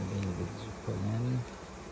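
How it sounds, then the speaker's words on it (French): Honeybees buzzing at an opened hive during a morning inspection, a close, droning hum in two swells with a brief dip between, faint background sounds beneath. "les abeilles, là, ils vont très bien"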